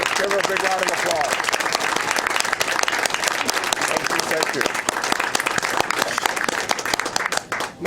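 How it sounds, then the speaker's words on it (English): Audience applause fills a town Board of Education meeting in Enfield, Connecticut, steady and loud throughout with dense clapping, and a brief spoken thanks emerges over it near the start. "Give her a big round of applause."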